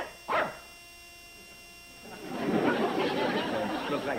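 A dog gives one sharp bark indoors, then muffled chatter and movement carry on over a steady hum.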